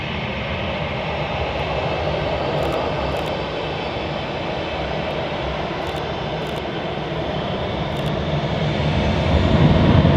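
Jet engines of a Norwegian airliner thunder as it departs from Manchester Airport, a loud, continuous roar that swells further in the final seconds, with no voices.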